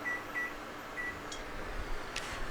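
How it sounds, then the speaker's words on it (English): A kitchen timer gives a few short electronic beeps in a kitchen during pasta cooking, faint over a steady background hum, with no talking. "Kitchen timer."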